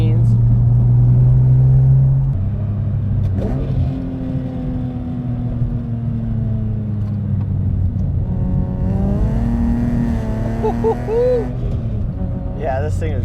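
Interior cabin noise of a BMW E46 driving on a bumpy road, a loud steady engine and road drone that rises and falls with revs, heard continuously throughout.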